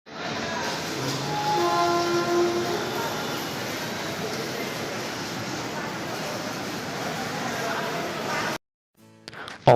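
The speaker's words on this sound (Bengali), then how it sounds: "অবশেষে আমাদের ট্রেন হাওড়া বালুরঘাট এক্সপ্রেস তার গন্তব্যস্থলে পৌঁছানোর জন্য রওনা দিল" Howrah Balurghat Express pulling away, a steady broadband rumble of wheels and carriage noise lasting most of the clip, then cutting out abruptly near the end, followed by brief scattered sounds.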